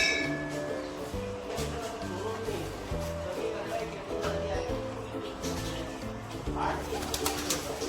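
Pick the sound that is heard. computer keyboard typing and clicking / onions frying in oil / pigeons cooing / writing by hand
pigeons cooing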